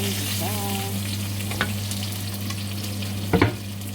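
Onions sizzle steadily in a pan, a close, even frying crackle with a low hum underneath and a couple of short stirring knocks, no talking.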